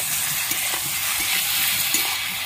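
Chopped tomatoes and green chillies fry and get stirred for a rui fish curry, a continuous bright sizzle with soft spoon scrapes throughout, close and fairly loud.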